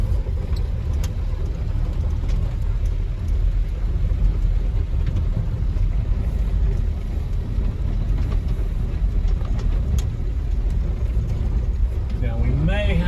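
A 1949 Dodge truck engine pulls through its low creeper gears, a steady rumbling drone with a rising and falling pitch as it runs, heard from inside the cab with someone talking over it.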